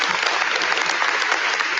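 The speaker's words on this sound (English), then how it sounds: "let's give everybody a round of applause to stand up here today." An audience at a live national signing day event for Auburn gives a loud, steady burst of applause with no break.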